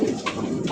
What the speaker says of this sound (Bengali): এটা হচ্ছে ব্লু বার বিউটির কবুতর